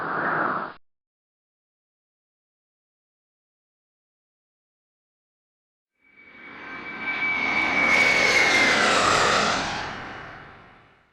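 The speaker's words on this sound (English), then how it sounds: "When an airplane flies overhead towards me, the sound gets louder and louder." Fixed-wing airplane passing overhead, its engine roar fading in from silence, swelling loud, then beginning to fade away.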